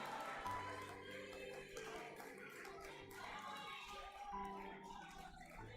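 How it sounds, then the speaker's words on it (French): An audience at a results announcement claps for a contestant named Nicodème, a busy patter of hands that continues steadily over background music, with a few voices mixed in. "Est-ce qu'on peut applaudir pour Nicodème, s'il vous plaît?"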